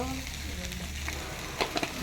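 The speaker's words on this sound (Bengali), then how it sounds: "আস্তে আস্তে ভাজা ভাজা হয়ে যাক" Okra and potatoes fry slowly in a pan, giving a steady soft sizzle with a few sharp crackles and stirring clicks near the end.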